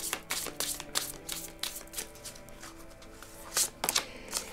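Tarot cards being shuffled by hand at close range, a rapid series of crisp riffling bursts and soft taps repeating steadily throughout, with no speech.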